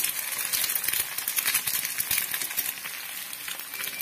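Dal stirred in a pan over low gas, with steady close sizzling and frying hiss and faint scraping of the spoon throughout.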